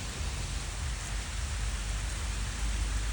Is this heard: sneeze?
no